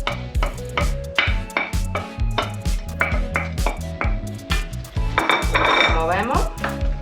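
Onion and carrot go into a pot of browned beef for a traditional beef stew, bringing rhythmic clanks and scrapes of a utensil stirring against the pot over a soft sizzle, close and busy throughout.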